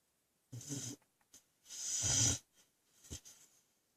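A sleeping dog snores indoors: two loud, breathy snorting inhalations with a few softer snuffles between, close by and without speech.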